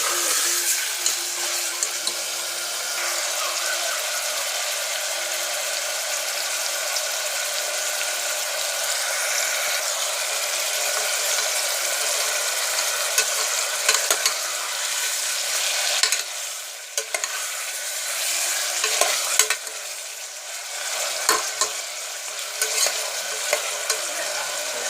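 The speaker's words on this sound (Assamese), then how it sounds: "ল' ফ্লেমত ভাজি থাকিব অলপ দেৰি ভাজি থাকিব লৰাই" Goat mutton sizzles steadily as it fries on a low flame in a pressure cooker and is stirred. The continuous frying hiss is broken by scraping stirs, with no talking.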